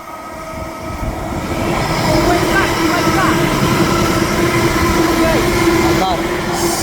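A train rolls past on Cadmore Lane with a loud, close rumble of wheels on rail and brief squeals, swelling after a second and holding steady, while people talk over it.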